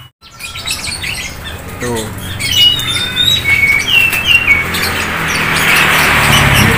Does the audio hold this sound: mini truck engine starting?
no